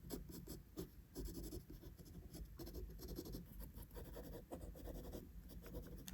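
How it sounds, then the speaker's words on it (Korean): Drawing outlines on a figure illustration, a continuous close scratching of a drawing tool on a surface, with repeated short strokes in an uneven rhythm and no talking. "이런 식으로 외곽을 어둡게 잡아줍니다."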